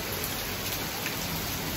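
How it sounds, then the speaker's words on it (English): Steady, dense rain pouring down continuously, a loud even hiss with no voices or other sounds. "It's raining heavily outside, and also there's a lot of thunderstorm."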